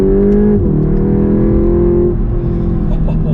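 A VW Golf GTI Clubsport 45 Edition engine pulls hard under acceleration, a loud steady drone that dips briefly as the driver modulates the throttle, then holds on and rises again.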